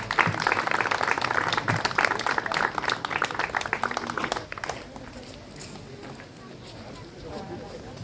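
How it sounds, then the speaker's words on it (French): Audience applause for a first-prize winner at a French koi show, a dense steady clatter of many hands for about four seconds that then thins and fades under background chatter. "Jérémy, vous pouvez l'applaudir"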